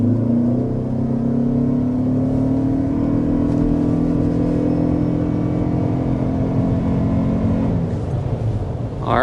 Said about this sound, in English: that was an acceleration to 60 miles per hour